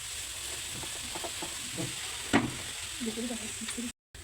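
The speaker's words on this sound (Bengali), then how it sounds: "এটা লাড়াচাড়া করিয়ে ভাজি করছি" Semai pulao, a sweet vermicelli dish, stirred and fried in a pan, a steady sizzle with scraping stir strokes and a sharper clatter midway, under faint background voices.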